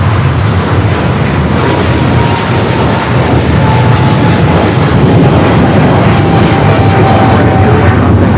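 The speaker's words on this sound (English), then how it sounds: "that A380 heading into the gates" An Airbus A380 airliner taxis toward the gates at Los Angeles International Airport, its engines giving a loud, steady, broadband roar that holds close and constant throughout, with a faint whine running above it and no talk.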